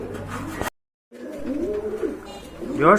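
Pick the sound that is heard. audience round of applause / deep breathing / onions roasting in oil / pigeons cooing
pigeons cooing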